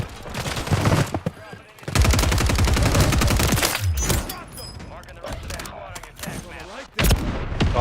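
Mortar strike explosions in the video game Warzone, loud booming blasts and gunfire-like bursts arriving in several heavy waves across the clip, with a player's voice talking over them.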